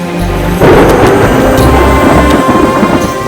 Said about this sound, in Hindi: कल भी आएगी, पर वो पहली बरसात नहीं होगी काशीबाई